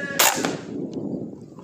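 A single sharp air rifle shot at a pigeon cracks once near the start, followed by a short decay and quiet outdoor background.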